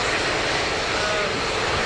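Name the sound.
WestJet airliner engines at Dublin Airport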